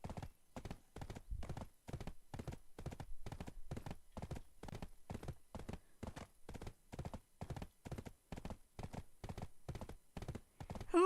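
Horse hooves in Black Desert Online clip-clop in a steady, even rhythm, a long run of regular hoofbeats at a brisk walk, fairly faint and without talk.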